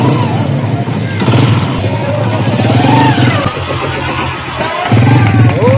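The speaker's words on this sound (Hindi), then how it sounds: "वन टू फाइव मोटरसाइकिल है" A 125 motorcycle rumbles close by as it rolls over an OPPO Reno12F phone in a durability test, its engine loud and steady while people talk over it.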